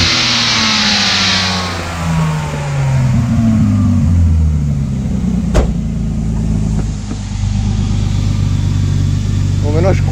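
A BMW E30's engine runs steadily after starting, a close, loud mid-pitched drone that swells and settles as it is revved lightly, with voices faintly present at times.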